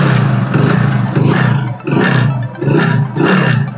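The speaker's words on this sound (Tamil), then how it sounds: "Splendor bro alloy wheel kicker start." Hero Splendor Pro motorcycle with alloy wheels, engine running loud and close after a kick start, with a rough pulsing roar that swells and dips in uneven bursts.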